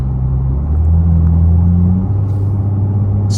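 A Dodge Charger drives through Atlanta traffic, giving a steady, close, low engine and road rumble with a sustained droning hum and faint passing traffic noises, without talking.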